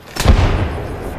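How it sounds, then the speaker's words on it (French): A frag grenade explodes in a shooter video game: a single sharp, close blast with a deep boom that rumbles and fades over about a second. "Grenade frag lancée."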